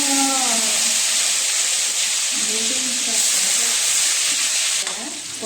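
Steady, loud frying sizzle of shrimp in a pan fills the clip, a dense hiss with faint crackles, while a voice talks low underneath.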